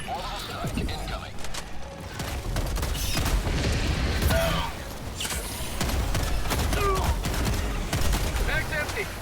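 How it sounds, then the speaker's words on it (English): Orbital strike bombardment in Helldivers 2, a barrage of booming explosions and crackling gunfire layered over game effects, with a voice speaking over the chaos. "Orbital strike incoming."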